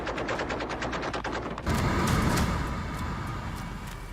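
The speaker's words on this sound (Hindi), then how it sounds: "बाब अल मंदेब स्ट्रेट में ताबड़तोड़ गोलियां चल रही हैं" Rapid bursts of automatic gunfire rattle in a dense string of sharp cracks, then give way to a louder, sustained roar of mixed noise.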